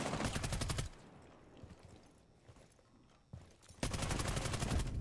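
Rapid bursts of gunfire from a tactical shooter, rounds punching through a wall, loud dense volleys at the start and end with a quieter lull of distant shots between.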